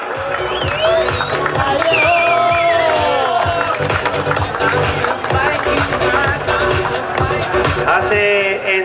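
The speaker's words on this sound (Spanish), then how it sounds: "Un fuerte aplauso para él" Crowd applause, cheering and whoops at an outdoor enduro cycling race award ceremony, loud and lively with shouts and chatter mixed in, continuing throughout while voices talk over it.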